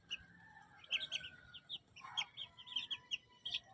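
One-month-old chicks chirp in a quick run of high, sharp peeps, several birds calling at once, moderately close and fairly quiet.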